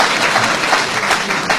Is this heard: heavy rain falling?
no